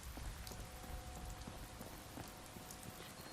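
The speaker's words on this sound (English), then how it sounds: "God, this weather is weird. It's like foggy, but rainy." Steady rain in the Fallout 4 video game, a dense constant hiss of drops pattering on surfaces, fairly soft and even throughout with no voices.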